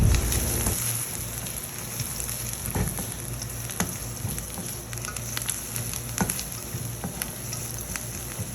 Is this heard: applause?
no